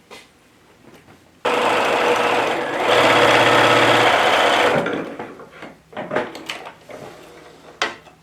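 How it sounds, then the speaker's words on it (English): A sewing machine runs a row of stitching on a fabric neck and back pillow: a loud, close mechanical whir lasts about three seconds and speeds up midway, followed by scattered handling clicks and taps. "I'm going to do 2 rows of stitching, one right on top of the other."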